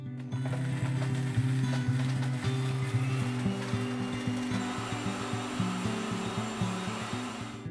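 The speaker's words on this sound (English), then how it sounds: "choose the spice program on the Vitamix and press start" Vitamix blender on its spice program grinding dried kombu seaweed into powder, a loud, steady motor roar with shifting harsh grinding tones that continues throughout without speech.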